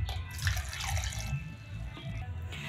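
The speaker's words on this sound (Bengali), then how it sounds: "মিক্সচার জারে ফার্স্টে দিয়ে দেব গাজরটা, একটু দিয়ে দেব জল" Water poured into a mixer jar holding carrot pieces, a steady close trickle and splash that runs on for a few seconds with no break.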